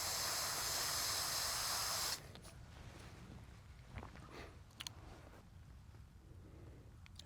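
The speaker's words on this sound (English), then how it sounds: "So I'm going to rinse this off." Running water rinses off a pH test strip in a loud, steady spray hiss that lasts about two seconds and then cuts off, followed by quieter handling noises.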